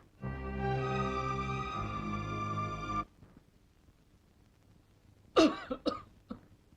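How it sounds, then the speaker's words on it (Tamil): A person coughs a few times, close by, after a sustained tonal hum fades out. "பால் மிளகு தட்டி போட்டிருக்கேன் இருமல் தனிஞ்சிடும்"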